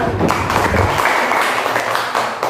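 Classroom applause from a group of students, a dense burst of clapping that stays loud and close for a couple of seconds with faint voices mixed in.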